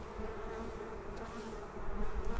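Honeybees of dark and golden colouring buzz steadily around a hive at close range, a dense continuous hum that swells slightly toward the end.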